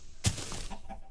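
A chicken in the Minecraft video game gives a brief, sharp cluck, followed by a few softer, quieter clucks over about a second.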